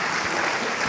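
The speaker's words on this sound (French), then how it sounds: "À ce moment-là, on applaudit." An audience applauds at a talk event with Allain Bougrain-Dubourg, a short dense burst of steady clapping filling the room at even loudness.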